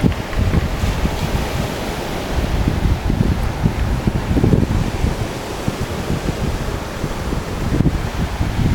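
Sea waves wash steadily onto the shore, a continuous loud surf roar with wind buffeting the microphone and no voices.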